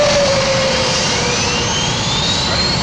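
Jet airliner engines spooling up at startup before departure, a loud steady broadband roar with a rising turbine whine climbing throughout, close and continuous with no talk.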